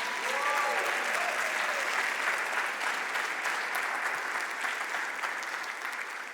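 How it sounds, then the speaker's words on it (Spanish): A church congregation claps loudly in praise during a sermon, a full, sustained round of applause that fades slightly toward the end, with a few voices calling out beneath it. "denle un fuerte aplauso al Señor."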